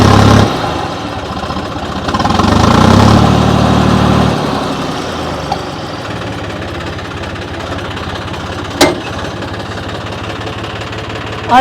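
A John Deere tractor pulling a 10-foot rotavator runs with a loud, steady engine drone that swells for a couple of seconds early on, with a sharp click later.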